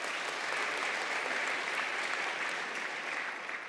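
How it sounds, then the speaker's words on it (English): A church congregation applauds during a Sunday homily, an even, sustained wash of clapping from many hands, moderately distant and without pause for the few seconds it lasts. "You can applaud that."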